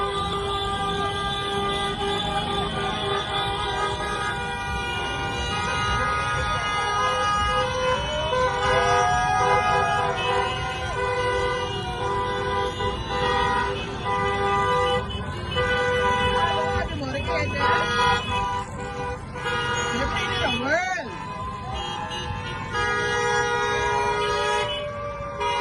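Golf carts honk repeatedly during a Freedom March celebration parade in Bimini, with overlapping horn toots and engine noise in a busy outdoor crowd, voices talking throughout.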